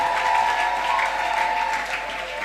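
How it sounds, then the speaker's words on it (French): A school audience claps and cheers for performers at an end-of-year event, steady dense applause filling the whole stretch without letting up. "Alors, on va applaudir pour la dernière fois pour toutes les personnes qui sont passées"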